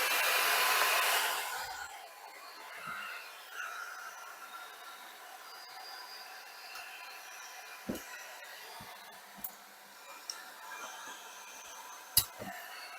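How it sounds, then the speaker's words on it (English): A blow dryer roars loudly at the start, heating peel-and-stick backsplash tile adhesive, then drops to a steadier, quieter hum, with a few sharp clicks and taps scattered throughout. "I took this blow dryer right here."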